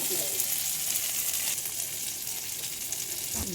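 Potatoes and spiny gourd fry with spices in a pan, giving an even, close sizzle that carries on without a break, with light stirring noises.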